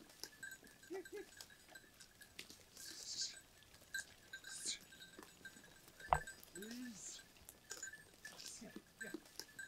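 Goats of a hardy Yörük and Honamlı crossbreed bleat in short calls now and then at moderate distance, with a person's voice and small movement noises among them.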